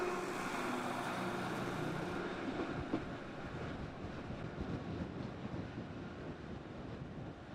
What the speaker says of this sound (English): Big bit of wind there